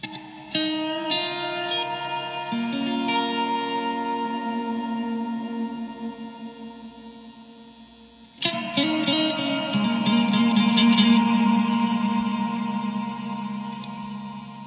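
Blackstar Core ID 40 guitar amp, a small 2x20-watt combo, rings out with heavy reverb on played guitar notes and chords, a lush wash trailing behind each attack, then a fresh loud strum swells into a dense, sustained reverberant tail.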